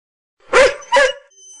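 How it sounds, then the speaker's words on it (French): A dog gives two short, sharp barks in quick succession, close and loud, with silence around them. "Un chien."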